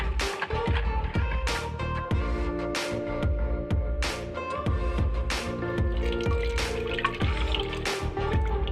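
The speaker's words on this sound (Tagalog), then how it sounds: "isi-strain lang natin itong mixture para masigurado natin na wala talaga siyang buo-buo" Kutsinta batter mixture being poured through a strainer, with liquid dripping and splashing in a steady repeating rhythm of close, fairly distinct drops and pours.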